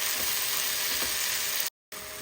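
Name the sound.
spinach and onion frying and being stirred in a pan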